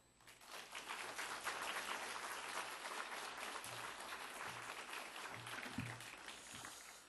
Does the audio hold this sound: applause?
yes